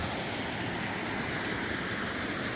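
Small mountain waterfall on the Appalachian Trail in New Hampshire or Maine, water tumbling down toward a stream, heard as a steady, dense broadband rush close by with no voices.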